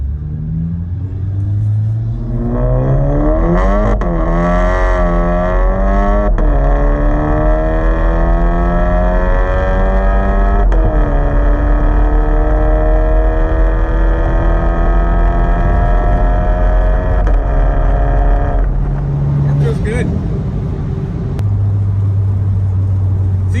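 A Volkswagen GTI with a JB4 tune and new downpipe revs and accelerates in manual mode, its pitch climbing through several gear changes, loud and close with a steady low rumble underneath.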